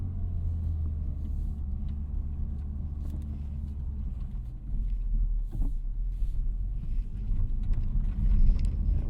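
A 2024 Honda Civic Type R on summer tires rolls along a rough, cratered road, its engine and tire roar a steady low rumble from inside the cabin, with some wind buffeting and no talk.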